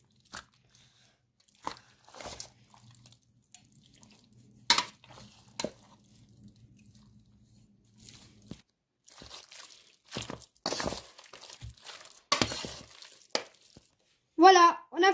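Chicken 65 pieces being mixed with chicken 65 spice powder in a bowl, giving sparse wet squelches and scraping clicks at close range with long quiet gaps, plus a few faint bits of talk.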